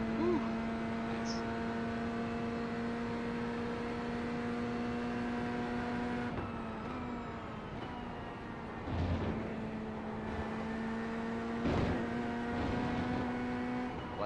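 Ford Mustang race car engine in the iRacing video game, a steady, droning, whining engine tone that holds throughout, with a few brief shifts and bumps as cars close in, while someone talks now and then.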